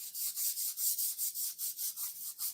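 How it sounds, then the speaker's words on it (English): A Scotch-Brite pad scrubs back and forth over an E-flite A-10 Thunderbolt II model plane, about ten steady rhythmic rubbing strokes, close and fairly soft, with no talking. "again, with the Scotch-Brite pad"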